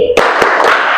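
A classroom group claps together once on a teacher's cue, a short sharp burst of many hands followed by a brief decaying room echo.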